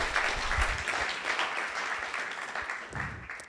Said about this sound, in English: On applaudit Epiderm.